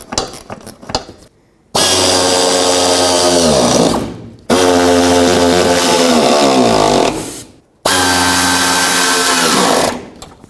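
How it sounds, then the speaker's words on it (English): A power tool snugs the side bolts on a front bumper support bracket of a 2007-14 Chevy Silverado. Three loud, sustained whirring bursts of a few seconds each are separated by brief pauses, with no talking. "And I'm going to also start in the side bolts. Do that on both sides. And go ahead and snug these up."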